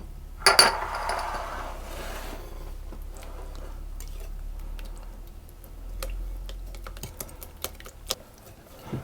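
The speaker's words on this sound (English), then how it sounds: "I'm going to whisk those together until they're all combined nicely." Eggs are whisked in a bowl for banana muffins, with quick, light clicking and tapping of the whisk against the bowl close by, after a brief louder clatter at the start, and no talking.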